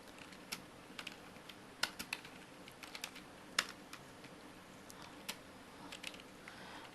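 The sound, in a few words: typing a line of code on a computer keyboard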